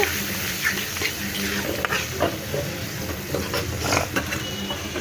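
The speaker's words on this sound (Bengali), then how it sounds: "এখন আমি ভালো করে কষিয়ে নেব" Ginger-garlic paste, salt, turmeric and chili fry in a pan while being stirred, giving a steady sizzle broken by scraping, clinking stirring sounds at close range.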